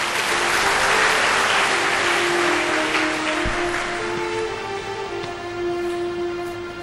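An audience clapping in an echoing hall during a religious satsang, broad sustained applause with a held musical tone running beneath it, gradually thinning toward the end.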